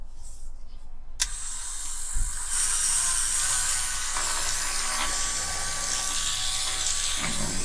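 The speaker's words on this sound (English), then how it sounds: "Now this piece here, I'm going to attempt to get this done with me Dremel." A Dremel rotary tool whirs at a high steady pitch after a click as it is switched on, a close continuous buzzing whine with a slight rattle during a toy restoration.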